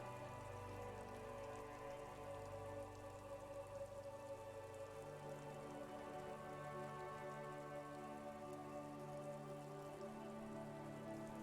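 Steady rain falls over a video game city of four-story buildings, rooftops and tar streets, a soft continuous patter heard under a layered tonal music bed, with no voices.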